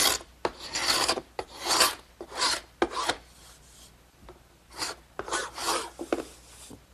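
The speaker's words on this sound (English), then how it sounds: "Now I want to just scrape off the little beads of glue that squeeze through." Ordinary paint scraper pulled across wood to remove squeezed-out beads of glue, a series of close, raspy scraping strokes in uneven bursts with short pauses between, no talking.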